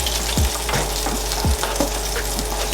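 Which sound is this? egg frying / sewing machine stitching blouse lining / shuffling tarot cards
egg frying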